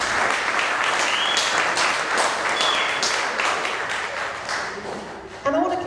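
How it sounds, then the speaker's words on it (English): An audience at a graduation party in a community centre claps steadily, a dense, loud wash of many hands that tapers slightly before a voice begins speaking near the end. "So can we give the community and Jason a round of applause?"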